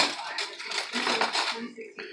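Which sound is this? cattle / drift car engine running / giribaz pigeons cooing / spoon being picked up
spoon being picked up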